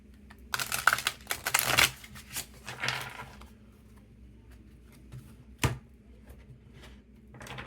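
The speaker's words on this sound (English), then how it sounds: "Shuffle this a couple of times." Tarot cards are shuffled by hand in a few quick riffling bursts close by, then a single short snap, with quiet pauses between.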